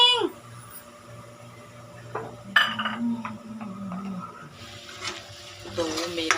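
Stuffed eggplants are set one by one into hot frying masala in a pan, bringing soft sizzling, scattered clunks and stirring scrapes, quiet at first and rising toward the end.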